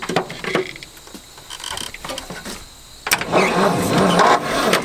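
An abandoned Ford F250 pickup, sitting for 26 years, cranks over in loud uneven bursts, starter grinding stronger after a quieter stretch, with faint voices nearby.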